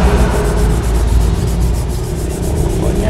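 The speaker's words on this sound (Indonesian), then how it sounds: "Oke, teman-teman, amplas lagi" Continuous rough scratching of sandpaper rubbed back and forth over wood, close and steady, with no talking.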